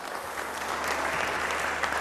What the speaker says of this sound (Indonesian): Kasih tepuk tangan buat Nadine dong